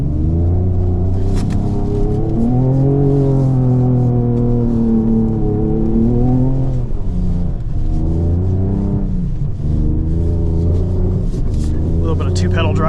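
A 2024 Ford Ranger Raptor's engine revs and surges while the truck churns through deep snow, a loud steady rumble rising and falling throughout, with people talking over it.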